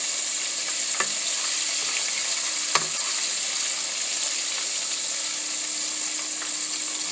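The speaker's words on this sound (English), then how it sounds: "when you are cooking shrimp, frying shrimp, when they float to the top, it's just like chicken." Shrimp fry in a pan of oil with a steady, even sizzle that holds for about seven seconds, broken by a couple of faint clicks and taps, with no talk.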